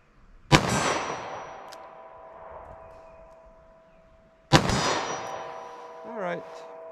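Two bullets from a .38 Special revolver striking a steel target, each a sharp metallic clang that rings out and fades over several seconds, spaced about four seconds apart and heard from a moderate distance.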